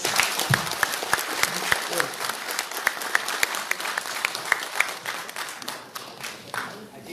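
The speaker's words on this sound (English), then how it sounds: "Round of applause, please." Audience applause at an oil and gas forum in Miri, Sarawak, a steady round of clapping with sharp individual claps throughout, thinning out toward the end.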